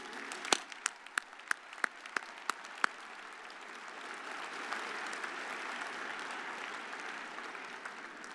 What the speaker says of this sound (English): Please join me in applause for these people.